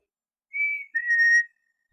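Two soft, sweet whistled notes, the second longer and sliding, a human voice imitating a red squirrel's call, close and clear against silence.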